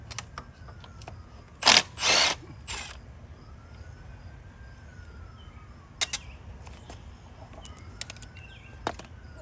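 A ratchet on an extension works the 12 mm starter bolts loose on a Kubota compact utility tractor: a couple of loud, harsh bursts early on, then scattered faint clicks and creaks in an otherwise quiet space.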